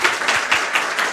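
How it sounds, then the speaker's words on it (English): An audience at a women in data and AI meetup claps. Brief rhythmic bursts of hand claps come through clearly at moderate loudness, with no speech over them. "Big round of applause."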